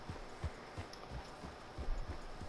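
Horse hooves clop in Red Dead Redemption 2, soft and fairly distant, with irregular muffled thuds as the animal walks through leaves and muck, no voices over them.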